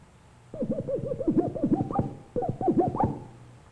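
An electronic buzzing photocell tone from a light beam chopped by a comb's teeth comes in rapid bursts that swoop up and down in pitch. It plays two quick runs, moderately loud.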